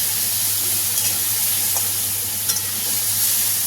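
A spice paste with cumin powder and a splash of water is stirred in a hot pan. It sizzles with a loud, steady hiss, and a few faint scraping strokes from the stirring come through.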